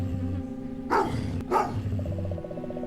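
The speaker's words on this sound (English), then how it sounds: "That dog attacked as soon as you entered your neighborhood" A dog barks and growls in the Goosebumps Dead House video game, two loud snarling bursts close together over a steady low musical drone.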